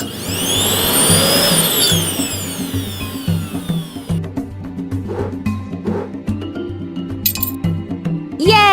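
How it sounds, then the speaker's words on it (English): A blender whirs in a toddler video game, a loud whining spin with rising and falling tones that gives way to clinking, tapping glassy game sounds. "Tap on the button to start the blender."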